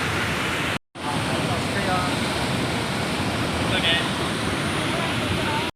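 Huka Falls in New Zealand, its blue-teal water thundering, fills the scene with a loud, continuous rushing roar that drops out for a split second near the start, then carries on unbroken.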